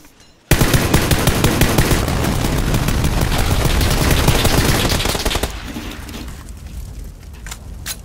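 Sustained automatic gunfire in PUBG starts abruptly and rattles loud and continuous for about five seconds, then drops away into quieter scattered noise.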